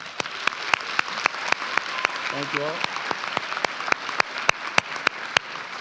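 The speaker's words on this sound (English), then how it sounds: "can we please give a round of applause to our Capitol staff" Applause from the audience at the 2026 Capital High graduation ceremony, steady and crowded, with sharp regular clicks cutting through and a voice briefly speaking over it partway through.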